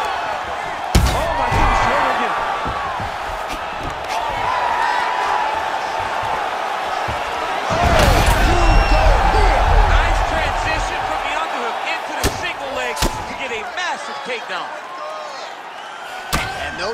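Fighters in the UFC 5 video game, with a loud impact from a slam takedown, several sharp body thuds and a roaring crowd, set against continuous commentary.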